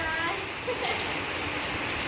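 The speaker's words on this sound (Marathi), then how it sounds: "बाहेर आता परत जोरदार पाऊस यायला लागलाय" Steady heavy monsoon-style rain in the Konkan region in May hisses across the whole clip, a dense, even wash of falling water with no pauses.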